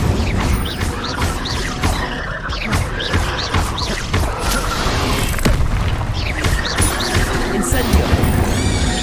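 Repeated Incendio fire spells cast in the Hogwarts Legacy game, each a loud whooshing burst with thuds and crashes, in quick succession amid busy combat effects.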